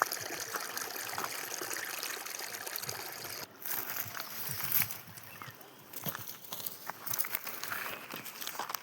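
A small stream trickles and gurgles on a village hillside where goats are grazed, a faint, continuous burble with occasional splashes and rustles close by, and no talking.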